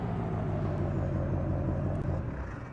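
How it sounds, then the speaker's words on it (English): A truck in Farming Simulator 19 idles and rumbles steadily up close as it is parked, a low continuous engine drone with a slight fade near the end. "I'll just park the truck there."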